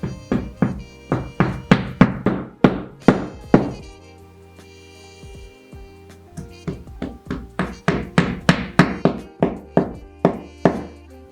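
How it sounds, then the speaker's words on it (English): Drywall anchors driven into a wall for mounting a large clear dry erase board: a long series of sharp, loud thunking taps in quick rhythmic bursts, pausing briefly midway before the steady hammering resumes, close and alone without talk. "Following the instructions on my hardware, I am putting in drywall anchors."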